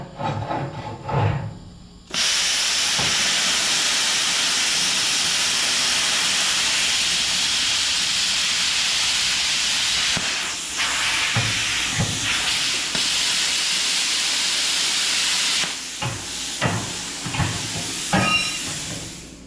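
A Bestarc BTC500DP plasma cutter set to maximum amperage at 95 PSI slices through metal, giving a loud, continuous roaring hiss close by that lasts about thirteen seconds, then breaks into short sputtering bursts and clicks.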